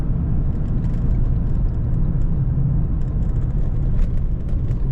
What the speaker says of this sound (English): You do hear the drone of the exhaust